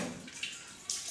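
Coconut water splashes and trickles into a Pongal cooking pot, a soft, short pouring sound with a couple of small splashy accents.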